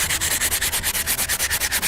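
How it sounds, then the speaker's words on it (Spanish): A sandstone block is rubbed rapidly back and forth across a freshly cast copper axe, making a fast, even rhythm of close, gritty scraping strokes with no talk. "Vamos a darle con una lija de arenisca"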